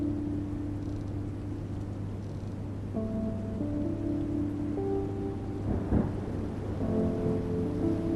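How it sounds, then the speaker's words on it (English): Thunderstorm with steady rain in a farm-set PS5 game, Where the Heart Leads: a continuous wash of rainfall with low rumbling thunder and a sharper crack near the middle, layered with soft melodic game music. "Not very good weather though. Nice storm brewing in"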